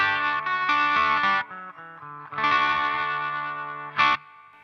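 An electric guitar played through a CryBaby Slash SC-95 wah pedal, bright distorted notes and chords swept through the wah, with short phrases, a brief pause and a final stab.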